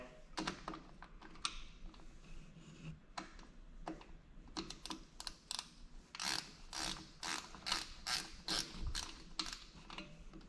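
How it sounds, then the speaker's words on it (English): A 12mm wrench loosens the valve stem nut on a dirt bike wheel at a table, making a quiet run of close ratcheting clicks and small metallic ticks in uneven bursts. "Now we're gonna take our 12mm, loosen up the valve, stem, not all the way."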